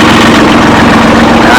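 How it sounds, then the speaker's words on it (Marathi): A tractor engine runs loud and close after a cold start on a farm, a rough continuous chugging drone throughout the short stretch. "ट्रॅक्टर चालू करायचं आहे, कोल्ड स्टार्ट."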